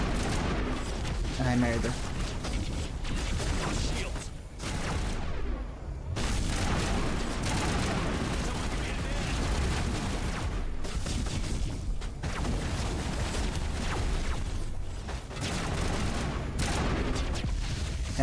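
Repeated heavy shotgun blasts in a shooter game, loud booming shots in clusters with brief lulls, while someone talks intermittently over the gunfire.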